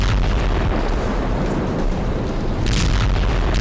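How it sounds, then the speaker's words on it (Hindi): Thermobaric bomb exploding in war footage from Bakhmut, heavy low booming blasts and rumbling with sharp bursts of crackling debris, loud and continuous without speech. "रूस ने बाखमुत में अब थर्मोबैरिक बम का इस्तेमाल किया है"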